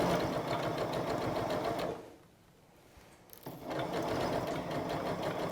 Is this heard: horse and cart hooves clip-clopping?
no